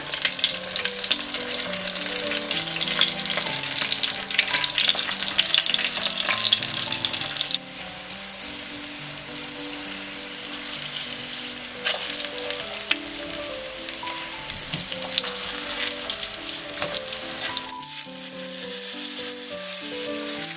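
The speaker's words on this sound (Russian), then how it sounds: "А сейчас средний огонь и обжариваем с обеих сторон по 4-5 минут до золотистого цвета." Oil sizzles and crackles steadily as manti dumplings fry over medium heat in a pan, a continuous close hiss that drops briefly before resuming, with soft background tones.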